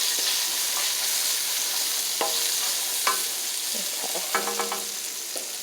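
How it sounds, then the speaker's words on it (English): Cabbage fries in a pan with a steady, close sizzle while a utensil scrapes and stirs through it in a few distinct clatters, with no talking. "Let's stir this up a little more."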